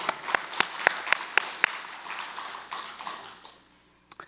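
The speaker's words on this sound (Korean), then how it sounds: "박수 한번 해주세요." Congregation at a Sunday church service claps on request: several sharp, rhythmic claps stand out over scattered clapping, then the applause thins and fades, ending with one last isolated clap.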